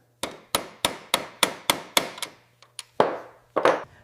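A hammer drives a roll pin to secure the bolt catch on an M16 rifle at a factory. About eight sharp metallic strikes land at a steady, quick rhythm, followed by a few lighter taps and two heavier blows.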